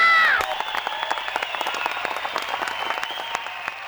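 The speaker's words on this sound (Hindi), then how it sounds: "तालियां!" An audience bursts into dense, sustained applause at a comedy magic act, the clapping starting after a brief bright tone and continuing steadily.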